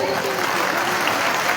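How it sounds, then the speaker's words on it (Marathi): Audience applause at a Buddhist religious gathering, dense continuous clapping from a large crowd, loud and steady throughout with no pause. "सर्वांनी जोरदार टाळ्या वाजवायचे"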